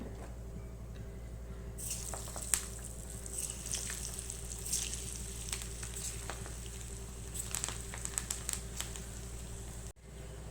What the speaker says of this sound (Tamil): இப்போ பார்த்தீங்கன்னா இந்த உருண்டைகளை வந்து நம்ம பொறிச்சு எடுத்துக்கலாம்